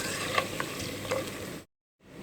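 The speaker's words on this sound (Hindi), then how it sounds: "और इसको अच्छी तरीके से हमने मिक्स करके थोड़ा सा फ्राई करना है।" Garam masala frying in a pan for chicken aloo biryani: a steady close sizzle with a few soft stirring scrapes, cutting off briefly to silence before resuming.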